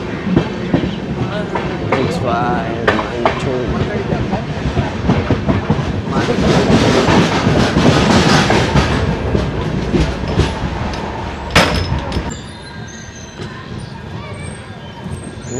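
The Hampi Express rolls along the tracks near Huligi (Munirabad) station, a loud, continuous clatter of wheels with rhythmic clicks and a swell midway, heard from on board with a brief spoken word.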